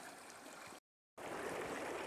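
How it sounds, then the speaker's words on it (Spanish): A river stream at a dry-fly fishing spot gives a steady, fairly faint rushing wash, cut by a brief silent gap before the flow noise resumes. "acá estamos en el río"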